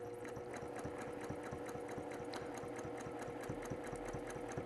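Sewing machine quilting through layers of a quilt panel, a steady fast needle chatter with an even rhythmic pulse, faint and continuous without talk.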